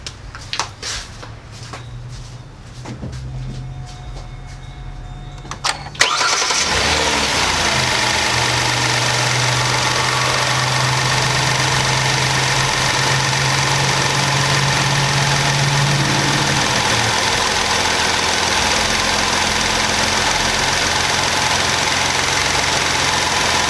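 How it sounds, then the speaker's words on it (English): A Kia Sorento engine cranks briefly and catches after an oil change, then settles into a loud, steady idle that continues unbroken for a long stretch. "we're going to go ahead and crank the car, let it idle for about 10-15 seconds"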